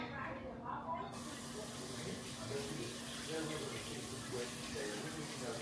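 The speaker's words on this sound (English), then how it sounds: "And we're gonna add some water." Water pours steadily into a cooking pot in a home kitchen, a continuous soft hissing splash heard up close and fairly quiet, running without pause for several seconds.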